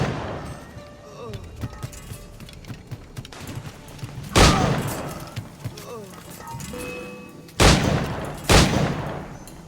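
Pistol gunfire in a sea-themed video game: several sharp, loud shots spaced irregularly, one pair close together, over quieter game sounds and scattered clicks, with a voice talking between shots.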